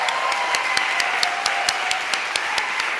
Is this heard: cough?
no